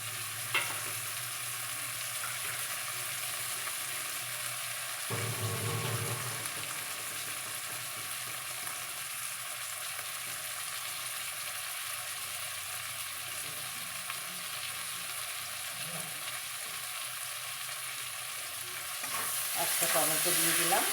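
Steady sizzling of chopped tomato frying with onion in a pan, continuous and fairly close, with occasional stirring scrapes and no talking.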